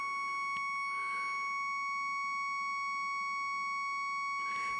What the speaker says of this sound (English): Well, that's this alarm.